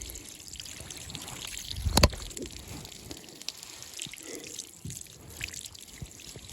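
Tap water runs steadily from a kitchen faucet while pieces of a large cleaned fish are rinsed under it, a soft continuous trickle and splash with a brief louder knock partway through.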